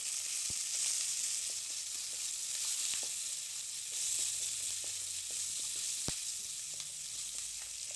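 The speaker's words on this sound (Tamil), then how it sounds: "ரெண்டு பச்சை மிளகாய் மட்டும் சேர்த்துக்கிறேன். கொஞ்சமாக சின்ன வெங்காயம் இதெல்லாம் போட்டு நல்லா வதங்க விடலாம்." Shallots and green chillies sautéing in a pan with salt, giving a steady, close sizzle with a few sharp ticks and pops and no voices.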